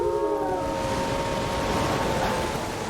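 Wolves in the Elden Ring video game let out a sustained, wailing howl that slides slowly in pitch over a constant wash of noise, loud and unbroken throughout.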